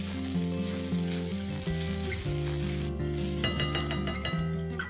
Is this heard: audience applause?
no